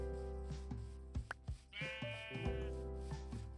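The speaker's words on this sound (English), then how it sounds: "Be a couple of sheep up here." Sheep in Minecraft bleat several times in short, close calls, with a few soft clicks and thumps between them and no talking.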